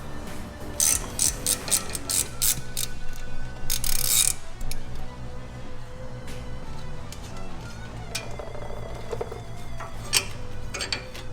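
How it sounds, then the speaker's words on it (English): A 10mm socket ratchet clicks steadily while removing a brake line bracket from the spindle of a lifted 2015 Ford F-150 during a coilover install. The clicking is close and loud, in repeated bursts with brief pauses and faint shop background. "you're going to take a 10mm socket and remove this brake line bracket off of this spindle"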